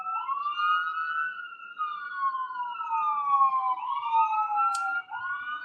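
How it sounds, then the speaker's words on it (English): An ambulance siren wails in long rising and falling sweeps, fairly distant but steady and clear, coming from outside a hotel during a conference, with no talk over it. "There's a ambulance over there."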